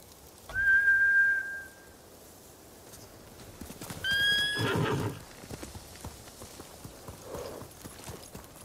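Samurai horses in the Ghost of Tsushima video game return to their masters, two loud whinnies a few seconds apart followed by faint hoof clops under outdoor ambience.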